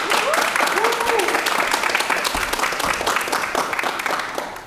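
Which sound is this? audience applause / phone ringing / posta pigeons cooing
audience applause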